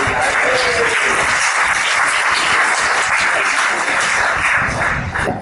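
An audience at a medical cannabis talk bursts into loud, sustained applause and cheering, a dense wash of clapping that holds steady and then tapers at the very end.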